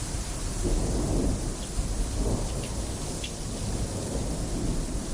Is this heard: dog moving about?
no